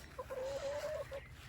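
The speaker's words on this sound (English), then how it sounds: "There's that rooster. That's the young rooster right there." A young rooster on a small farm gives a drawn-out, fairly loud crowing call that rises slightly, broken by a short cluck at the start and a brief note near the end, over faint outdoor background noise.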